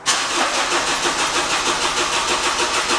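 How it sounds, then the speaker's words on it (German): A car engine catches after an injector repair, a brief crank settling into a rough, rhythmic idle that pulses steadily, loud and close with no talk. "Dann können wir den eigentlich schon starten."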